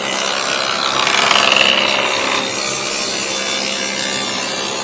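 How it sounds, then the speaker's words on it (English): A loud, continuous dowel molder machine grinds and rasps through wood, cutting timber-frame pegs, a steady harsh cutting noise with a brief shift in pitch partway through. "Let your molder take care of the rest."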